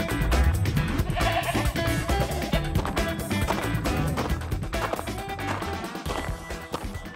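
Sheep bleat in a cartoon animal battle on a farm, a few short cries mixed into busy music and scuffling effects at moderate loudness.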